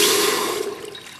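Water pours into a large pot in a loud, splashing gush that gradually thins and softens toward the end, with no speech.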